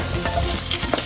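Onions sizzle and crackle steadily in a hot pan for gulay na monggo, with a brief stirring scrape, close and alone with no talking.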